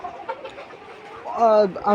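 Caged chickens cluck and squawk close by, a steady low murmur of fowl sounds that rises into louder, sharper calls toward the end.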